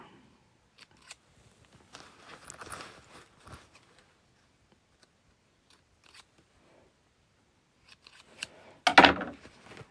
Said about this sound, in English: I'm going to trim off some of these little threads